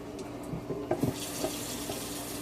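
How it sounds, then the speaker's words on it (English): Tap water runs steadily into a pot in a kitchen sink, a continuous close splashing stream with a few brighter gurgles as the pot fills for boiling eggs. "you fill the pot up with water"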